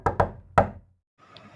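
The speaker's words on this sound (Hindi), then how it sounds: "दरवाज़े को खटखटाते हैं।" Three firm knocks strike a room door up close, two in quick succession and then a third after a short pause, followed by quiet, faint room noise.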